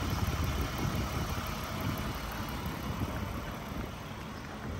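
A 2010 Lexus ES350 with its timing-chain 3.5-litre V6 idles with a steady, even hum, close and continuous, with no voices over it.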